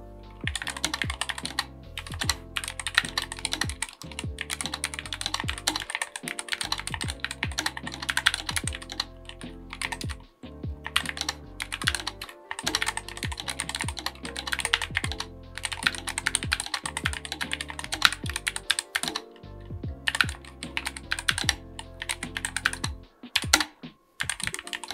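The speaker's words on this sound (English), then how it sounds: "here's a typing test." A budget RGB keyboard with a coiled cable is typed on continuously for a typing test, producing a brisk, close stream of clacky keystrokes with short pauses between bursts and no talking.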